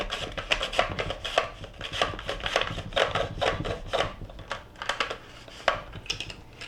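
Onion slices being cut on a mandoline slicer, with a steady back-and-forth run of crisp, rasping strokes at close range and no voices.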